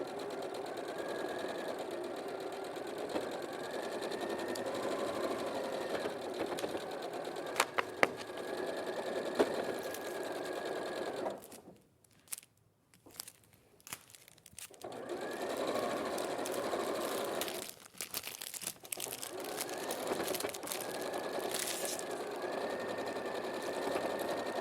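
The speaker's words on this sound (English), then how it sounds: "So we're just sewing again down this seam at a 1/4 inch seam." A domestic sewing machine runs steadily, stitching a quarter-inch seam through fabric at a quilting and sewing demonstration, with a brief pause partway through before the motor resumes its continuous whirring hum.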